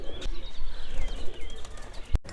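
Pet pigeons, wings bound with thread, coo steadily near a loft while higher bird chirps mix in, ending with a sharp knock or click just before the close.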